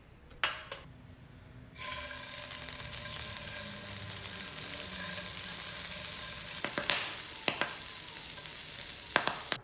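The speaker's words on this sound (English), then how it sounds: "I'm going to sear the skin so that the texture is nicer" Pork skin sears in a hot pan, a steady close sizzle rising after a brief quiet start, with a few scraping clinks of a utensil toward the end.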